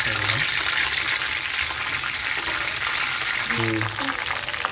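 Panch phoron spices frying in hot oil for homemade mango pickle, a steady close sizzle throughout with brief voice sounds over it.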